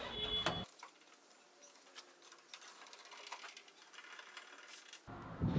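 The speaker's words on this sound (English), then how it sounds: "Now you could install your Phillips screws." Phillips screws are driven into a 2007-2013 Chevrolet Silverado LED tail light, a soft steady whir with faint ticks and clicks, close and quiet, framed by brief louder knocks at the start and end.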